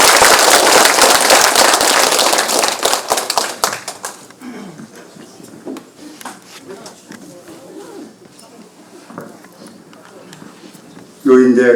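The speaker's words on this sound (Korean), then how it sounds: "김상문 회장을 여러분들이 따뜻한 박수로 환영해 주시기 바랍니다" Warm audience applause greets IK Group chairman Kim Sang-mun at a special lecture for the Korea Senior Citizens Association's Boeun branch. Dense, loud clapping fills the first four seconds, then fades into a quieter room with faint shuffling.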